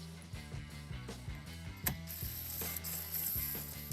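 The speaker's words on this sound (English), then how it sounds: "Using an impact gun with a 10mm socket, we will take out 2 screws one by one." Impact gun with a 10mm socket backing out two tail light screws on a 2021-2026 Nissan Rogue, giving repeated bursts of close, rattling ratcheting whirr with short pauses between runs.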